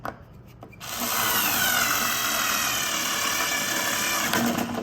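A power drill drives a screw into wood furniture being flipped, with a steady loud whirring buzz that starts after a second of near quiet and runs continuously close up to the end.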